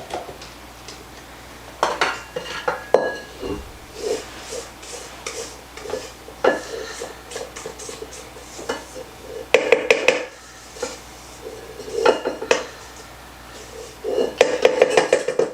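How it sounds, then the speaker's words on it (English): A utensil scrapes and clinks against a mixing bowl while lemon zest is worked into plum cake batter, irregular scraping strokes and taps with a voice talking in between. "Scrape, make sure we get all that zest in there"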